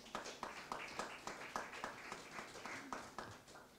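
Audience applause for a poet at an Italian poetry award ceremony, a steady crowd clapping throughout at moderate, somewhat distant level, with no speech over it.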